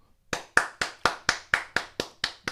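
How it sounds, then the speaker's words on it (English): Hand clapping, about nine sharp evenly spaced claps from one or two nearby people, steady rhythm, close and clear, no talk over it. "I want to applaud the ladies who went over to the table"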